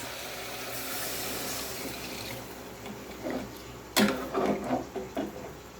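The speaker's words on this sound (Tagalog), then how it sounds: "magbutang na taog tubig guys" Water pours into a pot for chicken soup, a soft trickle at first, then louder gurgling splashes near the end as the stream fills, close and without speech.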